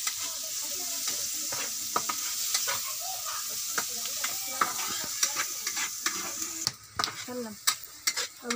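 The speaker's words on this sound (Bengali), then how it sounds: "এখন পেঁয়াজগুলো বাদামি কালার করে ভেজে নিতে হবে।" Onions frying in a pan for a pangas fish bhuna, cooked until brown, with a steady close sizzle broken by repeated scraping stirs and light clinks of a spoon against the pan.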